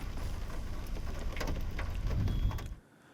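Heavy unseasonal rain with hail pours down in a dense, steady roar over a Pune village, drumming loudly for nearly three seconds before cutting off abruptly.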